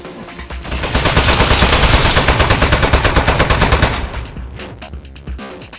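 Automatic turret gunfire in the video game Aperture Desk Job, a loud sustained rapid burst of shots lasting about three seconds, then tapering into scattered clatter and softer mechanical sounds.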